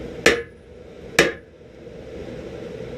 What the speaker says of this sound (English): take your hammer and smash that thing close together